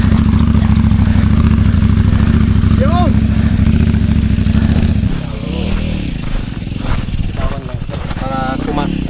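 A motorcycle on a mountaincross ride in low gear, its engine a loud, steady, close chugging drone for about five seconds, then lower and rougher with clattering and voices over it.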